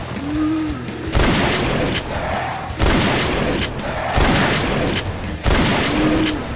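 Pistol shots from a scary first-person video game ring out in repeated loud bursts, four or five close, sharp volleys spread through the stretch.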